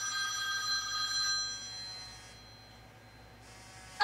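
A telephone on a call-in line rings with a bright trilling bell, loud at first and then fading before a short renewed burst at the end, with no talk over it.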